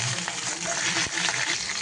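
Onions go into hot oil for mutton kuzhambu, giving a steady, close frying hiss with a few soft clatters, with no talk.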